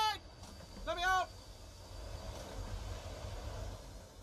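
A train in the video game Escape Train rumbles low and steady, with brief harmonic whistling squeals early on and a faint voice under the rolling noise.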